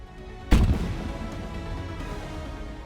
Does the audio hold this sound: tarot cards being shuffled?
no